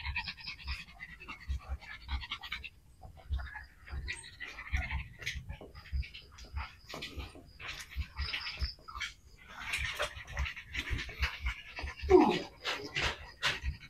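A pack of dogs and puppies pant close by in quick, uneven bursts of breath over a long stretch, with occasional small whines and shuffling mixed in.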